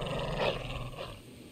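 A dog growls low and close in The Walking Dead Telltale video game, a short rumbling snarl that fades after about a second, with no talking.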